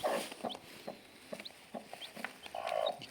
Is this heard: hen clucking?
yes